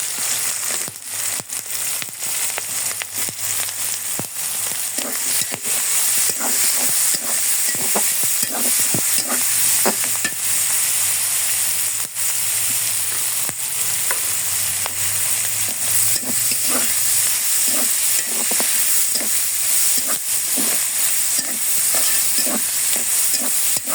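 Onions with green chillies, cardamom and cinnamon fry in oil over a clay stove, a loud continuous sizzle broken by rapid scraping stirs, close up with no voices.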